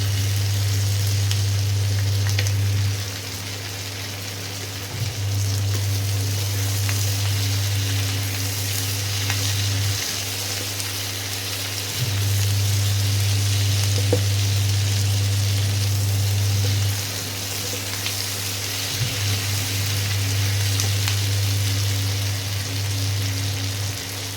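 Tomatoes fry in oil with a continuous crackling sizzle, close and steady, under a low electrical hum that cuts in and out, with no talking.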